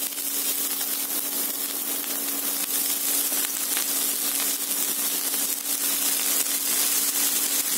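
Coriander leaves fry in a pan with a continuous, dense sizzling hiss carrying a faint steady hum underneath, close and even throughout with no voices.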